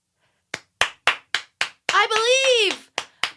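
Slow, separate hand claps, roughly eight sharp evenly spaced slaps from what sounds like a single pair of hands, interrupted midway by a sweeping, sung-like vocal sound.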